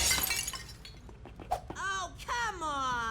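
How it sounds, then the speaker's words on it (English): A cartoon baby knocks a glass fishbowl to the floor, bringing a sharp crash and spray of shattering glass, followed by high animated voices and squeaky cartoon sound effects. "Well, baby broke the fishbowl."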